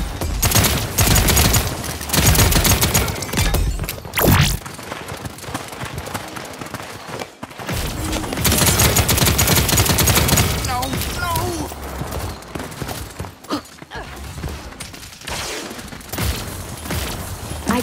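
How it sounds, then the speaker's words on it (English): Dense video game gunfire from Paladins on the Xbox One beta: sustained bursts and rapid shots with booming hits run almost the whole time, loud and close, with a brief lull near the middle and a voice heard at times. "Enemies are firing on me."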